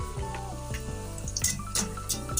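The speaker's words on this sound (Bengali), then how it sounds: "এখন একটা আমি লুচি ভেজে নিচ্ছি।" Luchi, a puffed flatbread of spinach dough, fries in hot oil in a wok with a continuous close sizzle, punctuated by sharper crackling spatters and stirring clatter.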